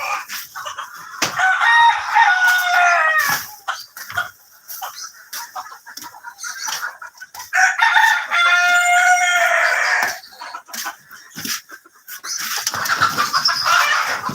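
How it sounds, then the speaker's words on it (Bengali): Buff Brahma rooster crowing twice in long, loud calls, with hens clucking around it in a farm yard and a burst of mixed bird noise near the end. "এটা হচ্ছে আমাদের বাফ ব্রাহ্মা এটা হচ্ছে মেল আর এইগুলো হচ্ছে ফিমেল"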